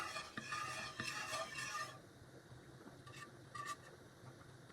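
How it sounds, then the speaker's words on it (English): Cheese being stirred to melt into a Fettuccine Alfredo sauce in a pan, faint close scraping and clinking of the spoon over a soft low simmer, with a few brief metallic taps. "So now I'm just gonna begin to stir this up, get that melted together."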